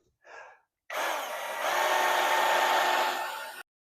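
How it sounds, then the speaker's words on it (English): A titanium step drill bit powered by a drill bores into the metal body of a sixth-generation Toyota 4Runner, with a sharp whirring whine that starts abruptly after a brief short burst, climbs in tone, holds steady for nearly three seconds, then stops. "This is a titanium step drill"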